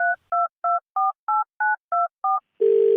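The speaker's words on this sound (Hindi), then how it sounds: "फोन मिलाओ।" Eight evenly spaced telephone keypad tones beep one after another as a number is dialed, followed by a brief louder buzzing tone at the end, with no voices.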